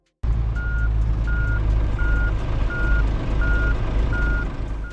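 A truck in the driving simulator Truckers of Europe 3 backs up with a steady series of about seven evenly spaced reversing beeps over a loud, low engine rumble, close and with no talking.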